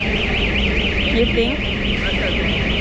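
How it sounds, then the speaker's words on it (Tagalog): A fire alarm sounds inside an IKEA store in the Philippines: a steady, loud electronic tone wavering up and down continuously, with people talking over it. "Ano ba yan ang ingay ng fire alarm?"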